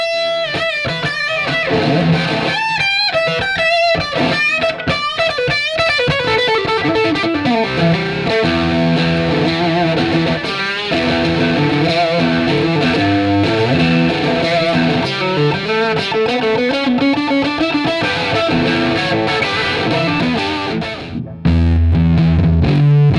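An electric guitar played through a range-lowered distortion pedal set for a rhythm tone, loud and saturated, with sustained chords and bending riffs ringing continuously before a brief low thump at the end.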